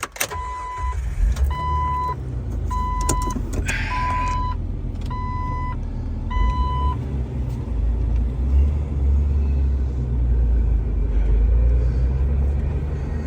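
A 2004 Jeep Wrangler Sahara TJ with 49K miles sets off on a test drive, a low engine and road rumble beneath a series of evenly spaced warning chimes that stop after a few seconds. The rumble then continues steadily, with no speech.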